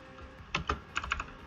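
Keys clack on a computer keyboard as a git config command is typed, a few quick, close, crisp strokes in two short bursts over a quiet background.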